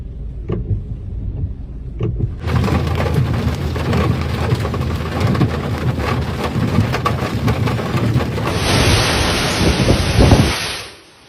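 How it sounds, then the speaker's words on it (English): A severe storm with strong winds and heavy rain strikes a capital city. A few faint thunder rumbles are followed by a loud, dense downpour that roars steadily and then fades out abruptly. "A severe storm accompanied by strong winds and heavy rain has hit the capital"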